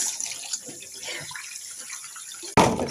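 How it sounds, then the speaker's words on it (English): Cannellini beans are drained from a can, liquid trickling and splashing softly for a couple of seconds before a sudden louder gush of water pours out close by. "Drain 1 can of cannellini beans."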